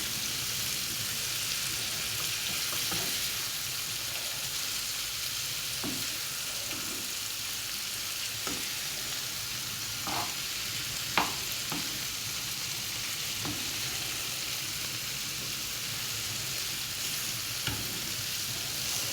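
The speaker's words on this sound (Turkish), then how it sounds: "Şimdi bunu güzel böyle kavuralım." Boiled green beans sautéing in a pan, a steady close hiss of frying with occasional clinks and scrapes of stirring throughout, no talk.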